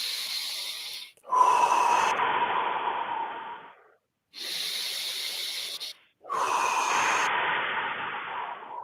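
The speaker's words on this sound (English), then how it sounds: "Just deep breath." Slow, deep breathing close to the mic: long airy inhales and exhales in four drawn-out cycles separated by brief pauses, hissy and steady, with no talking.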